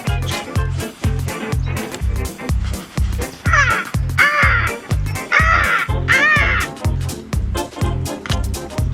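A voice imitates a pterodactyl with a series of loud, harsh, cawing screeches over a steady thumping beat, repeated rhythmically several times in a backyard kids' camp game.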